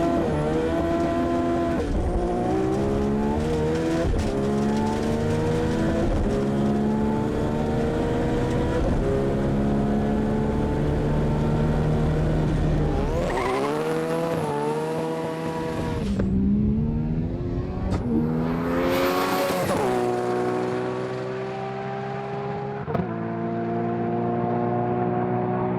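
A race car spins its wheels and accelerates hard, its engine climbing in repeated revving sweeps while the tires squeal, with a sharp high screech near the end; loud and close, no talk.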